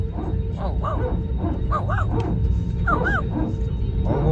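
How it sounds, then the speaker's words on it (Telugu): A dog yelping and whimpering aboard a passenger plane, several short high yips in an irregular run over a steady cabin drone, with people talking in the background. "కుక్క కూడా ఉంది అనుకుంటా ఫ్లైట్లో."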